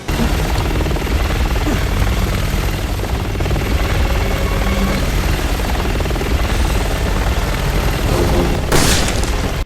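In the video game Resident Evil 6, a helicopter roars steadily while a magnum fires into it at point blank, heavy booming shots punching through the constant rotor noise, loud and close.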